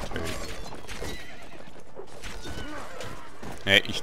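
Horse neighing in the video game Mount & Blade Warband, a whinny over clattering hooves and battle noise, with a sharp bright cry rising near the end.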